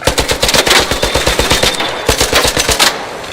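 Rapid automatic gunfire from a video game, loud and close, with dense bursts of rattling shots continuing for several seconds before cutting off.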